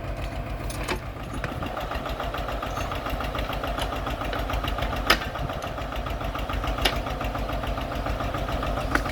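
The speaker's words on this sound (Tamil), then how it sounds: "டிராக்டரோட இன்ஜின் ஆர்பிஎம் பார்த்தீங்கன்னா 1000 ஆர்பிஎத்தில் இயங்கிட்டு இருக்கு டிராக்டர்." An Eicher tractor with a mounted JCB-style loader and backhoe idles at 1000 rpm, giving a steady close diesel rumble with rhythmic knocking and a few sharp clicks, and no talk.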